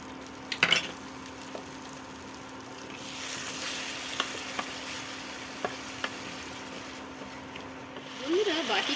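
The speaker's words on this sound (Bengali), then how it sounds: "এবার দিয়ে দেবো ফেটিয়ে রাখা দই, টক দই।" Whisked sour yogurt going into okra masala in a pan on a low flame, giving a soft, steady sizzle with occasional stirring clinks, and a voice talking over it.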